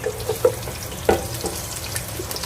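Ginger and garlic cloves fry in a pan with a little brown sugar, a soft, low sizzle with a few light clinks and stirring taps, close by and fairly quiet, no voices.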